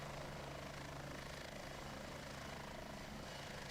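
A damaged helicopter in War Thunder roars with a continuous, loud rotor and engine drone, steady and close throughout with no talk.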